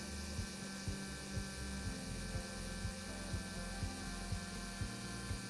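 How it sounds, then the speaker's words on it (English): Beta Bionics iLet insulin pump motor rewinding, a quiet steady mechanical whir punctuated by regular ratcheting clicks about twice per second, close and alone. "Listen to the sound the motor makes when rewinding."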